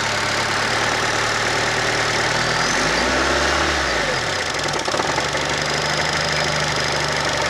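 A Fiat Uno FIRE fuel-injected engine idles steadily, then revs up and back down once in a smooth swell before settling into its idle again.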